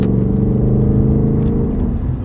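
A 2021 Ford Mustang with a 5.0 V8 holds a deep, steady engine drone, close and loud, with a rich low rumble and no speech.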